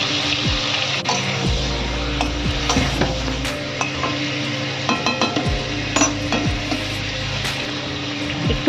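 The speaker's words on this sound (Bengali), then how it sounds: "এরপর কড়াইতে তেল দিয়ে আমি সেদ্ধ করে রাখা আলুগুলোকে ভেজে নেব একটু" Boiled potatoes fry in oil in a wok, giving a continuous close sizzle broken by the repeated scrape and clatter of a stirring spoon against the metal.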